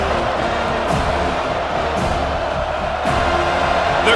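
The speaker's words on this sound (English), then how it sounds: "The crowd getting behind this defense as they try to get a stop in the red zone" Football stadium crowd at a college game between Florida State and Georgia Tech, cheering steadily for the defense in the red zone, a loud continuous roar with no individual voices standing out.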